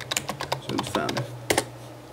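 Rapid typing on a computer keyboard while writing a chat message, a close, uneven burst of crisp key clicks with a short pause and a final cluster of taps, a faint low hum underneath.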